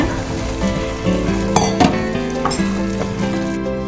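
Mysore pak batter being stirred in a pan as ghee is added little by little, a steady close sizzle and bubbling with scraping stir strokes throughout, no talk.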